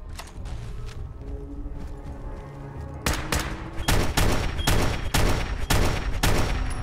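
Fallout 4 gunfire starts as steady background shooting, then turns into loud, close, rapid bursts of shots with sharp regular cracks, no talking.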